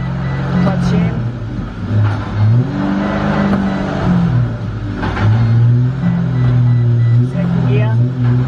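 A drift-project car fitted with a dual-caliper hydraulic handbrake revs loudly and close by, its engine note climbing and dropping in steps as it shifts up through first, second and third gear.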